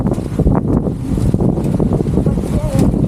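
Strong wind buffets the microphone in loud, continuous rumbling gusts, with people talking faintly underneath.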